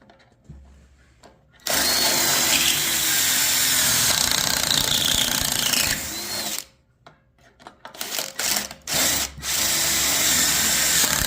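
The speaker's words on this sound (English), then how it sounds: "So keep backing in and out as you drill." A power drill boring pocket holes in wood whines loudly and steadily, stops, then restarts in short bursts as the bit backs in and out of the hole, up close with no talk.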